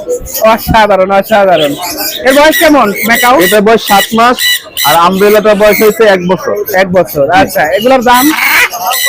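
Many birds squawk and chatter loudly and continuously nearby, mixed with people talking in the crowded Mirpur 1 bird market in Dhaka.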